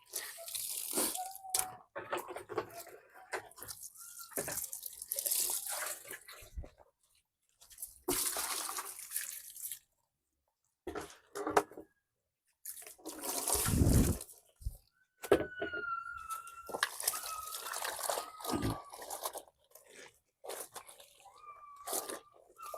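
Laundry washed by hand in a water-filled basin, with irregular sloshing, wet rubbing and splashing bursts separated by short pauses, close by.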